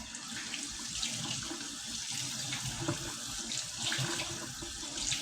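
A cold-water tap runs steadily, water splashing into a sink in a continuous hiss, fairly close, with no speech.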